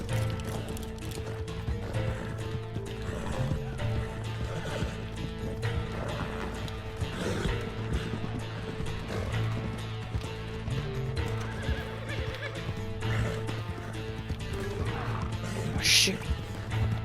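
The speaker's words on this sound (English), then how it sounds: "Don't shoot these goddamn horse." Horses whinny and hooves clip-clop across a frontier scene in the video game Red Dead Redemption 2, several neighs rising over a steady trot, with faint voices and game ambience underneath.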